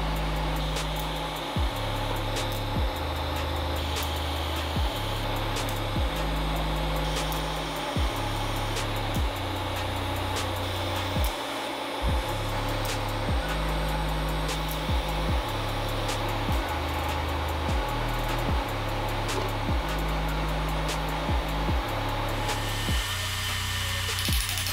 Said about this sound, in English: Now I'm going to weld 14 tabs, that's 2 per light